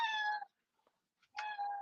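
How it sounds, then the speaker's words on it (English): A cat gives two clear meows separated by a brief quiet gap, close and fairly faint, with no other sound around them. "It sounds like your cat wants some hot wings."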